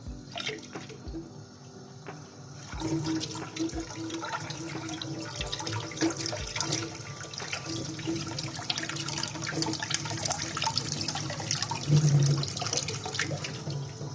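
Hot water running from a tap in a home workshop, a continuous hiss and splash that stays steady throughout, with occasional clicks and clatter in the background and no talking.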